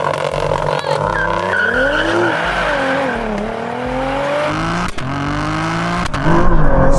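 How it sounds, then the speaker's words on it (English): A Toyota GR Yaris tuned to 600 horsepower races hard, its engine revving and sweeping up and down in pitch as the wheels spin, loud and close throughout, with brief bursts of tire noise and a surge near the end. "Spinning my wheels."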